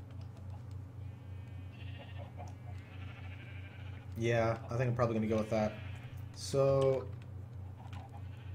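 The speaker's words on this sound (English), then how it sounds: "I'm just going to go in here and release the sheep into the rest of their enclosure, their pen." Sheep in Minecraft give a few short bleats in the second half, while someone talks over steady background game sounds.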